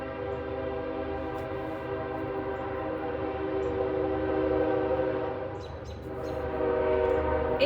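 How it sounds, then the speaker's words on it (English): A train rolls past in a continuous, loud rumble with sustained tonal droning that swells and eases as it moves by, heard up close with no one speaking. "I'm just going to sit here and let this train go."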